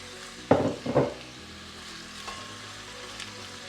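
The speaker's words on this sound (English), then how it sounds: "I'm going to saute the onions." Chopped onions hit two tablespoons of hot oil in a pan for a South Indian chicken curry and sizzle loudly in two quick bursts, then settle into a steady, softer frying hiss up close.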